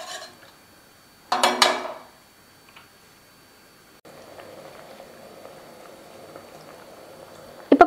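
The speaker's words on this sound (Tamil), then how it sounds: "கொதிக்க ஆரம்பிச்சிருச்சு" Water in a pressure cooker pot starts to boil for mushroom biryani, a low steady bubbling rumble that begins after a short clatter and a quiet pause, with no voices.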